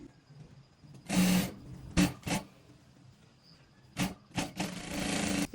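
A sewing machine stitches a frill with widely spaced pleats for a princess-line frock, running in short bursts of rapid mechanical whirring separated by pauses, then a longer sustained run at the end.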